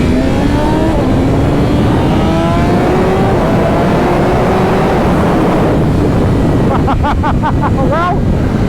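BMW M 1000 RR superbike with its limiter removed accelerating hard in first gear, rising engine howl sweeping upward repeatedly over heavy wind rush close to the rider, ending in a few quick rapid rev blips.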